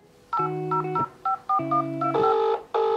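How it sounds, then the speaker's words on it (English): Telephone keypad dialing: a quick series of distinct dual-tone beeps, each short and clear, spaced unevenly as number keys are pressed, heard alone at moderate volume. "we decided to get Marianne, the property manager, on the phone"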